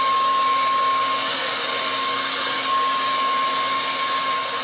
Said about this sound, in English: I'm using the dryer